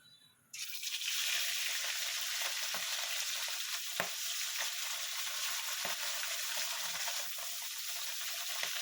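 Rui fish pieces frying in a pan, a steady loud hiss and crackle that starts abruptly and runs throughout, with occasional sharp pops.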